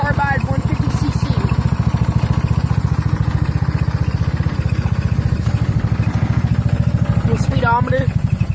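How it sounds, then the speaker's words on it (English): A carbide 150cc motorcycle engine running rough on a cold start, low on fuel, with a fast steady putter broken by spits and sputters, close by with someone talking over it. "There's not a whole lot of gas in it, so that's why it's spitting and sputtering"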